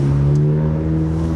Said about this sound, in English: Probably hear how loud the car is.